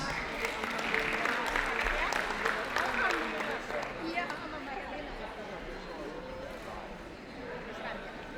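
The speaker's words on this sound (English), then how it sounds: "Please give a round of applause for your Mayor of the Georges River Council, Mr. Nick Katras." Audience applause welcoming the mayor of Georges River Council at a Ramadan festival presentation, a steady broad wash of clapping that holds for several seconds at even loudness, with crowd chatter mixed in.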